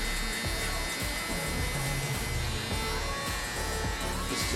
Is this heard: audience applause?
no